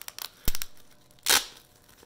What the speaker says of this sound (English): I'm ripping that plastic bag so bad